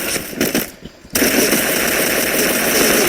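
Rapid automatic gunfire from a video game gun starts abruptly after a second of quieter clicks and bursts, then roars loud and continuous to the end.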